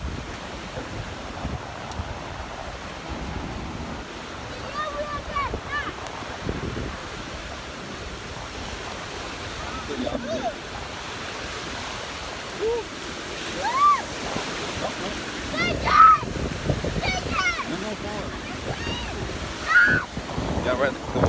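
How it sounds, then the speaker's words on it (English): Ocean surf at Myrtle Beach under stormy weather, a steady roar of waves and heavy wind buffeting the microphone, with people talking and calling out over it. "the waves crazy"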